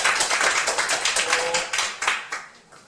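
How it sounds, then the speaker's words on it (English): Applause for a speaker at a speakers' club meeting, a small group clapping with distinct individual claps that thin out and fade toward the end. "Give her a big round of applause."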